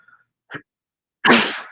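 A short, sharp burst from the throat, explosive and close, after a faint small sound; it comes across much like a sneeze.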